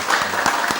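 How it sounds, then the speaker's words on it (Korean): A church congregation applauding together during a Sunday worship service, a dense, steady wash of clapping that fills the room for just under a second. "우리 크게 한번 박수를 하겠습니다."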